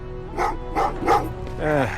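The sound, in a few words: dogs barking in the video game Terminator: Resistance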